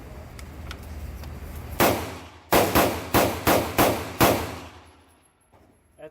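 A bargain AR-15 with a 10.5-inch barrel fires at an outdoor range, one sharp shot followed by a fast rapid string of loud cracks, each ringing out briefly before quiet returns.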